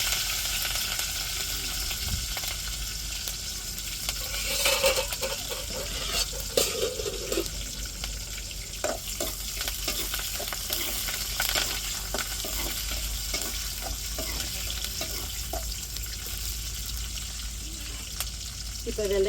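Small shallots and curry leaves sizzle and crackle in hot oil with mustard seeds and urad dal, a steady frying hiss broken by stirring clatters and occasional pops, with a voice speaking at times.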